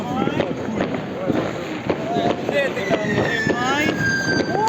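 New Year fireworks bursting somewhere off in the distance, scattered crackles and soft booms heard outdoors under nearby voices and wind.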